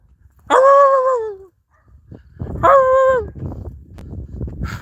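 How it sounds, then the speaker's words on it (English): Dogs at the Walla Walla State Prison let out two loud, drawn-out howling barks, followed by rougher yips and background noise. "The dogs are pretty loud, aren't they?"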